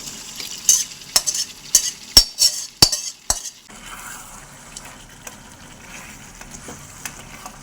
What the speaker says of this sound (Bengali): সেই মাংসটা এবারে কড়াই দিয়ে দিচ্ছি